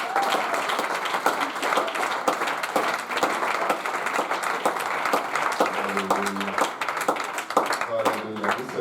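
A church congregation claps and cheers in praise to the Lord, a steady wash of applause filling the room with voices rising through it and music tones entering near the end.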